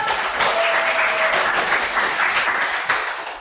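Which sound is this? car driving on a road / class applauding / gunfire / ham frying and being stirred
class applauding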